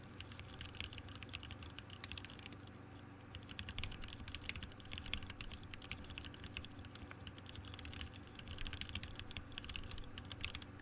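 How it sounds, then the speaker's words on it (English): Steady keystrokes at a normal force on a Unikorn mechanical keyboard, a continuous run of moderate clicks and clacks over a low background hum, with nobody talking. "And now me typing a bit more normally."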